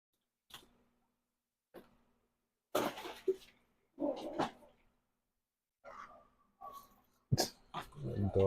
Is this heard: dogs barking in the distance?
yes